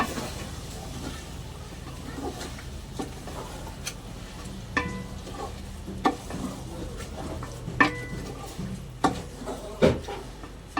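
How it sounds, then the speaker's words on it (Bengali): Washed rice and lentils being stir-fried together for khichuri, a soft continuous sizzle under a steady murmur, broken by scattered sharp taps and scrapes of a spoon against the pot that grow more frequent toward the end. "সব কিছু একসঙ্গে ভালো করে আর একটু কষে নেব।"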